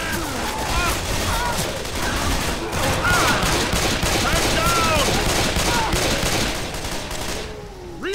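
Dense, continuous gunfire as survivors shoot the Tank in the zombie game Left 4 Dead 2, loud overlapping shots that run for several seconds before briefly thinning near the end, with voices shouting faintly in the mix.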